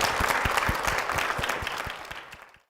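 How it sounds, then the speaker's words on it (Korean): Church congregation applauding a couple at a Korean Methodist church service, a dense steady wash of clapping that holds for a couple of seconds and then thins out toward the end. "여러분 큰 박수를 모실게요"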